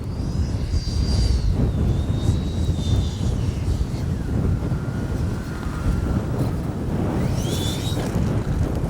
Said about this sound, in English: You can hear that wind howling and whipping around